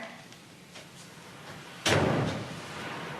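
A door opens with a single sharp thud partway through, after a quiet stretch of faint room noise, and a softer rustle trails off after it.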